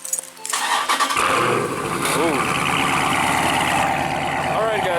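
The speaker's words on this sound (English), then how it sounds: "Let me start the cars up for you guys." A Lamborghini engine cranks and fires up with a loud roar, then settles into a deep, rumbling idle that carries on close by, while a person briefly exclaims.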